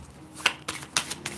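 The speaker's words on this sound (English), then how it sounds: "It's getting awkward to shuffle." A small hand of cards is shuffled up close in several quick riffles and snaps, spaced in short bursts with no talk.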